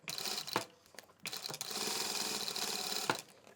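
A sewing machine stitches hoodie fabric in steady mechanical bursts, a running whir that stops briefly and starts again, close and fairly loud with no talk.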